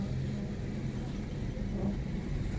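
A car pulling away slowly during a driving lesson as the clutch is gently let out, a low steady engine rumble and hum, fairly quiet and continuous, with no talk.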